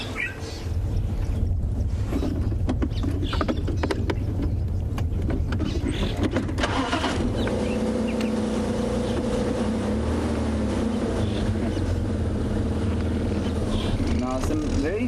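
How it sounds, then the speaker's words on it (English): A safari vehicle's engine rumbles steadily as it pulls away from a waterhole, with heavy wind buffeting the microphone; a voice talks over the drone. "as we drive away from the waterhole here"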